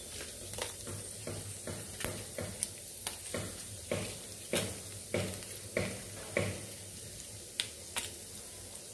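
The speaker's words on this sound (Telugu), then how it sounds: "కొంచెం ఫ్రై చేసుకుందామండి" Chillies and chana dal frying in a pan for ridge gourd peel chutney: a faint, steady sizzle broken by regular sharp clicks and taps of stirring, with no talking.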